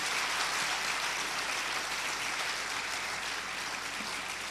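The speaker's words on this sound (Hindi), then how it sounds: "एक बार आप सब ताली बजा करके भरपूर स्वागत कर लीजिएगा" Audience at a Hindi-language gathering claps to welcome guests, a dense, steady wash of many hands that stays loud and continuous throughout, with no voices on top.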